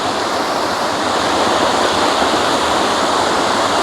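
Continuous broadband rush of water splashing in a city fountain in Odesa, steady and fairly loud, with no talk over it.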